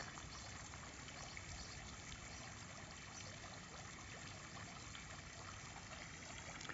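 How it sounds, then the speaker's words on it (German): Water trickling and splashing steadily in the Bad Pyrmont spa park, a soft continuous babble at moderate distance with no voices. "Und hört mal das Plätschern."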